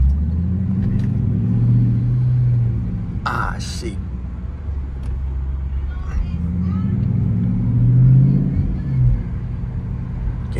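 Car engine revving heard from inside the vehicle, a deep rumbling growl that swells twice with rising revs, steady low drone between, with a man muttering briefly over it.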